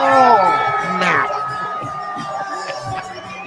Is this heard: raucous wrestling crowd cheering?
yes